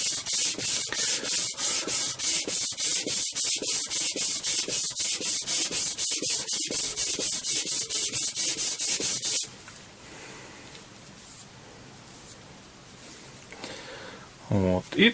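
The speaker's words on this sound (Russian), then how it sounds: "И точим таким образом наш ножик." Leather-working knife sharpened on emery paper, a fast rhythmic series of close, loud rasping strokes that stop after about nine seconds, followed by quieter handling noise and someone speaking briefly.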